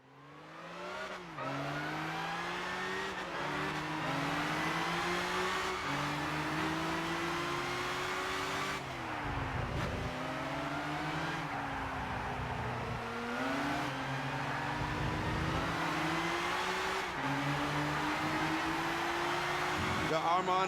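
Race cars in Gran Turismo 6 accelerating off the line, with several engines revving and shifting through gears in steady, loud, continuous waves, and a voice talking over them.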